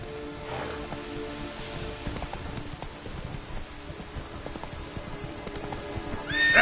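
Roach, Geralt's horse in The Witcher 3, lets out a whinny over soft rain and hoof clip-clops, the neigh fairly quiet against steady background ambience.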